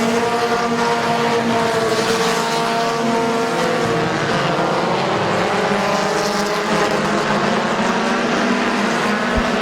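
Race cars roar around the oval at Midvale Speedway, a dense, loud, continuous engine drone with shifting pitch as the cars pass close by.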